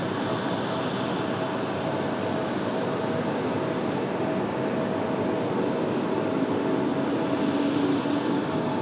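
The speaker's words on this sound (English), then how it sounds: "Got an American up for departure. This is off to Miami, American Airlines" An American Airlines jet departs for Miami, with a sustained engine roar at moderate distance and a faint whine building toward the end, no talking heard.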